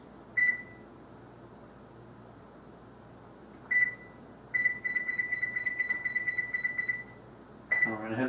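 Kitchen oven timer buttons being set for 10 minutes while making chicken quesadillas: two separate single beeps, then a quick run of about a dozen rapid beeps and a final beep, over a faint background hum.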